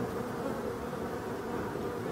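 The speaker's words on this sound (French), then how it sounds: "La lumière rentre dans la ruche et du coup les abeilles sortent plus tôt." Bees buzz around a beehive in a forest, a dense continuous hum of many wings close by, steady and unbroken throughout with no voices.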